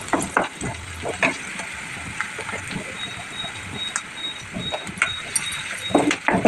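Onions frying in a curry pan of taro root and tomato, a soft steady sizzle broken by scattered scrapes and clinks of stirring, close by and without talk.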